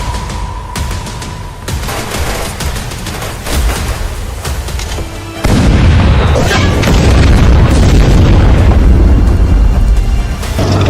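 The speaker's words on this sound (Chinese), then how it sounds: "当然是开炮！" Cannon fire in a wartime drama: heavy booming blasts and rumbling explosions fill the scene, growing louder and denser midway into a sustained, thunderous barrage.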